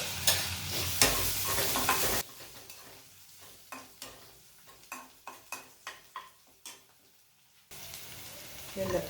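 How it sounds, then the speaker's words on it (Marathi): Garlic frying in oil in a pan as turmeric and asafoetida go in, with a loud sizzle at the start and end and a quieter stretch of spoon taps and clinks against the pan in between. "लसूण थोडासा लालसर करायचा आहे म्हणून पहिला टाकलं घालूया हळद हिंग"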